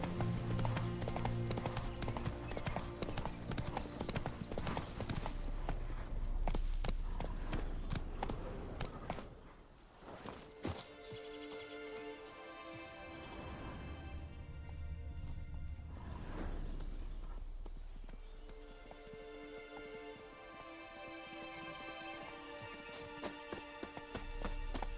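Hoofbeats of Roach, Geralt's horse in The Witcher 3, clip-clop steadily through most of the stretch with an occasional whinny, under a game music score, briefly easing off midway before resuming.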